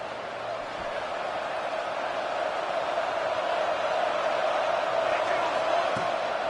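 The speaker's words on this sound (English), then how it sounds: "with this place rocking, the crowd forces a false start" A loud football stadium crowd roaring in a steady, dense wash of noise that holds at a high level throughout, with a brief thump near the end.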